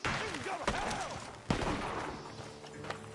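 Gunfire in the Red Dead Redemption video game, two sharp shots cracking out over a busy game soundscape of rumbling and fluttering tones, with quieter ambient activity continuing after.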